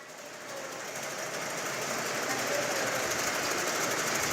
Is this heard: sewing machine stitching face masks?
yes